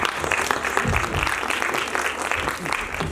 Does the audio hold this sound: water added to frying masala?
no